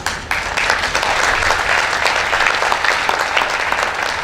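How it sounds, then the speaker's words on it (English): A crowd at a chairman's speech bursts into applause, starting abruptly and holding as a steady, dense wash of clapping from many people with a few voices faint underneath. "And that is how we clap, please."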